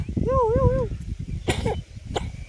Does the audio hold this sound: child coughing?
yes